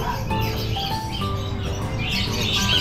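Birds chirp and tweet in short, scattered calls over a busy background hum, fairly close and continuous.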